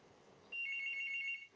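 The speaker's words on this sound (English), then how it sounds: "I know there's something behind me that's ringing" A telephone rings somewhere behind the speaker indoors, a single faint electronic trilling burst lasting under a second in a quiet room.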